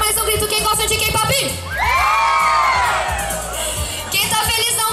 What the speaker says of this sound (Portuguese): Eu quero que vocês gritem bem forte pra chamar todo mundo